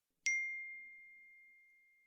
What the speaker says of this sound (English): My phone pinged.